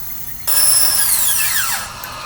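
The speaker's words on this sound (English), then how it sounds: "using a router to make circles with a center spindle in the middle" A router with a center spindle cuts circles in wood for the front piece of a mid-range speaker, starting abruptly into a loud, steady high whine that falls in pitch as it bites, running alone.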